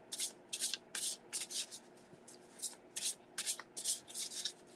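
A deck of cards shuffled repeatedly in a rhythmic series of crisp riffling bursts, close and clear with no talking.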